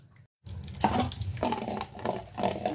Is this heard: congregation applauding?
no